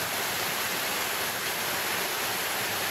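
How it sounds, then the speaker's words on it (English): A noisy mountain creek, Burn Creek in Necklace Valley, rushes steadily beneath a footbridge, a dense unbroken roar of flowing water heard up close with no voices. "A pretty noisy creek."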